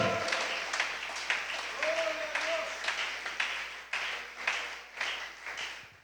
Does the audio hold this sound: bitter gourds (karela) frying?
no